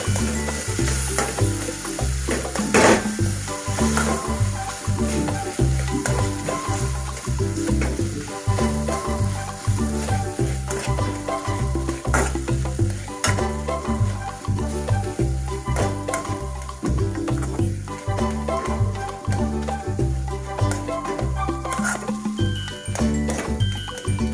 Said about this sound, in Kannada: ಅಲ್ಲೇ ಚೆನ್ನಾಗಿ ಹೀಗೆ ಸ್ಮ್ಯಾಶ್ ಮಾಡ್ಕೊತೀನಿ.